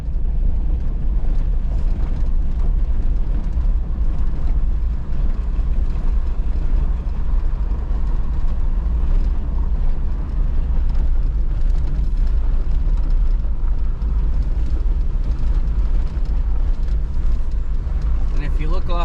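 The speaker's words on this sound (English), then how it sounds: "right now we're driving on top of the slag dump." Vehicle driving over the top of a mine slag dump at an Arizona ghost town, a continuous loud low rumble of engine and rough ground with wind buffeting the microphone throughout.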